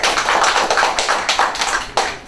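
Audience at a 2017 CSEC graduation awards ceremony applauding a student, loud clapping that swells in uneven bursts and dips, close and without talk.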